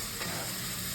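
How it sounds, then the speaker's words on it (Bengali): Rice frying with spices in a pan while fish-head murighonto is cooked, giving a steady close sizzle and stirring scrape that runs evenly through the whole short moment, with no voices. "এবার মশলাটা ভালোভাবে ভাজা হয়ে গেছে, এরপর চালটা আমি দিয়ে দিচ্ছি।"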